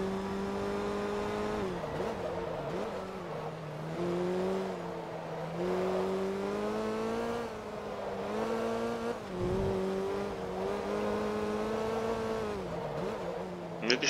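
Tuned VW Golf 2 racing in the Forza Motorsport 2 video game, its engine droning steadily and loud throughout, pitch rising and dipping with gear changes and throttle, no talk.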